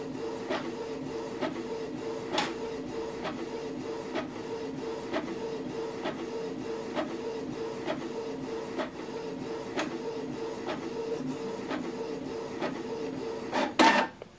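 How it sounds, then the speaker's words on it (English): A Canon TR4650 inkjet printer prints a document in black, running a steady mechanical whir broken by regular rhythmic clicks of the print head, close and continuous, with a louder clatter near the end. "So we scan this document black. I'm printing it out black."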